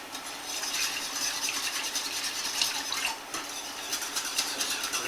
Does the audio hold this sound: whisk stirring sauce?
yes